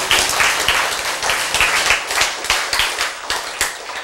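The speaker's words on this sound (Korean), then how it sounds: "박수!" An audience at a church talk breaks into lively applause, with many distinct hand claps forming a brisk, fairly close burst that continues steadily for several seconds.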